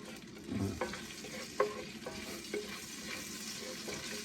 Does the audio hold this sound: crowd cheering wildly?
no